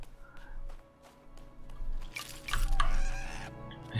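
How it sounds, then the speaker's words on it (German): Chickens cluck in the video game PINE, short repeated clucks and squawks scattered over a steady ambient game bed, growing busier and louder toward the end. "Lasst mich hier im Frieden, ihr Hühner."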